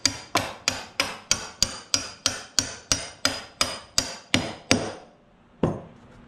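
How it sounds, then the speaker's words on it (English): A hammer strikes steadily, about a dozen evenly spaced sharp blows in quick rhythm, driving through trailer floor wood. The hits are loud and close, followed by a brief pause and one final heavier strike, with no talking. "what'll happen when you start hammering this through, it'll just blow the other side out"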